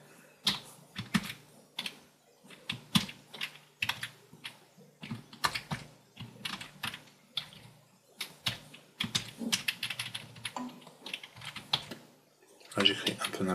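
Fast typing on a computer keyboard while entering equations in MathType: close, rapid bursts of key clicks in uneven clusters with short pauses, continuing throughout and ending in a denser flurry.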